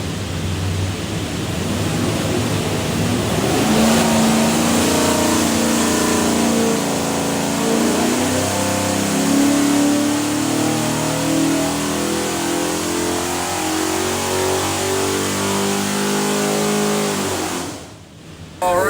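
A Ford 427ci Windsor V8 built for a '72 Ford F100 revs hard on a dyno, a loud sustained engine roar climbing in pitch for most of the run before cutting off near the end.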